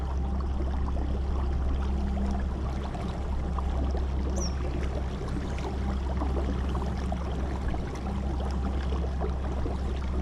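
Nucanoe kayak gliding through lily pads on a lake, a steady low rumble of water and hull movement with faint splashes and trickles, continuous and close, no talking.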